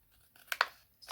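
Scissors snipping through scrapbooking paper to trim the overhanging edge after scoring on a scoring board: two quick close crisp cuts in the middle with a faint rustle after, otherwise quiet.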